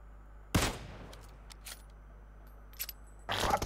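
Sharp gunshots from PUBG Mobile: one crisp crack near the start, a few faint distant pops in the middle and a heavier burst of fire at the end, all fairly quiet against a low hum.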